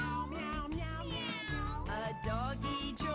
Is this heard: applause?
no